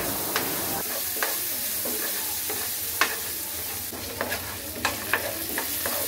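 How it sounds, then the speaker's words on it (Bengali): Corn kernels being stirred and fried in a pan, with a soft continuous sizzle under repeated sharp spatula scrapes and taps against the metal, close by and fairly quiet. "ভুট্টাগুলো দেওয়ার সাথে সাথে এগুলোকে আমি ভালোভাবে একটু নাড়তে হবে।"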